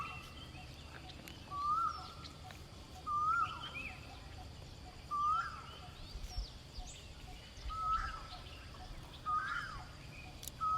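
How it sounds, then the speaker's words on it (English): Birds sing outdoors in repeated short whistled phrases every second or so, fairly faint over a soft, steady background hum. "birds' songs, birds singing around you"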